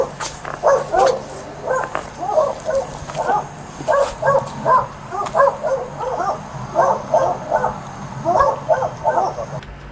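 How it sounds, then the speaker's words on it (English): A dog barks repeatedly in a steady rhythm of short bursts, fairly close and loud over a low background hum, at a police scene in Holly Hill, Florida. "now I can hear the dog barks"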